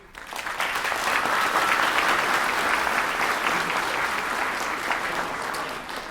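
Audience at a spring school choir concert applauds steadily, a dense sustained clapping from a crowd that swells in quickly and holds at full strength without any talking.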